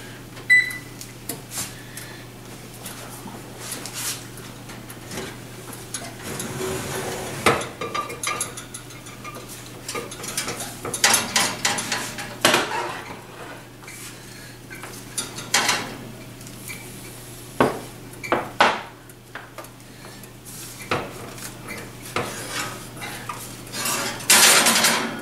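Freshly baked whole wheat loaves are pulled from the oven and knocked out of their metal pans, with repeated clanks, scrapes and rattles of tins and utensils over a steady low oven hum, no talking.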